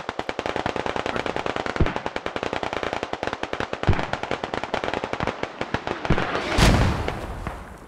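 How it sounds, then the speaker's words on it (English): Squad gameplay with rapid, steady crackling gunfire throughout, punctuated by a few heavier booms and one loud mortar-style blast near the end. "Ooh, that mortar would have finished him off anyways."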